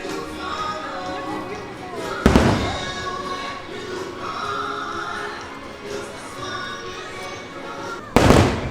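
Fireworks burst at Magic Kingdom, Walt Disney World, in a steady crackling, rumbling wash. Two sharp loud booms stand out, with crowd noise underneath.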